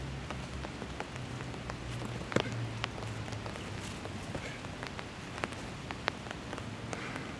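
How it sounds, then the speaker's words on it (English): Rain falls outdoors onto grassy ground, a steady hiss with scattered sharper drop ticks, constant and moderately close, with no voices. "so it's raining now."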